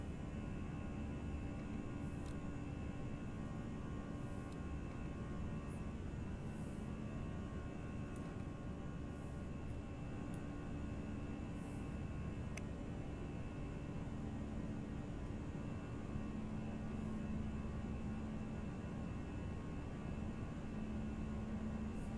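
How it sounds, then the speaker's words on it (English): An Airbus A319 in the X-Plane 11 flight simulator, climbing out of Gatwick toward Dublin, gives a faint, steady cabin hum and airflow drone with a few light ticks and rattles, and no talk over it. "Alright, the whole plane's rattling."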